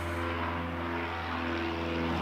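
A light aircraft taking off at the Canterbury Aero Club, its steady propeller-engine drone holding loud and continuous from start to finish with no talk over it.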